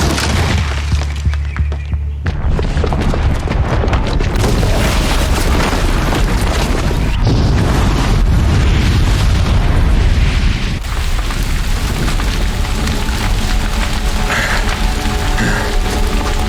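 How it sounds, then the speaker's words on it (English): A bomb blast in the video game Horizon Zero Dawn, set off by a booby trap: a loud, sustained booming roar with crumbling debris and rumble filling the whole stretch, no talk. "the booby trap on the bomb downstairs is gonna get set off"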